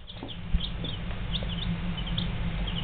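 Baby chicks being handled and given water: scattered high, thin cheeps repeating over a low background rumble, fairly close and light, with no talk.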